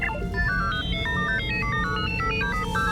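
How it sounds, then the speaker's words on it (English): Incoming hail signal from Valen's ship in a video game, a looping electronic melody of stepped beeping tones that runs steadily for three seconds over a low synthetic hum, alone without talk. "We're receiving a hail from Valen's ship."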